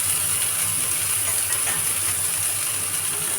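Hot oil hisses and sizzles steadily in a pan as eggplant slices fry, a close, continuous bright hiss with no talking.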